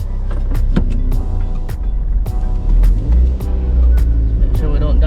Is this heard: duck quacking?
no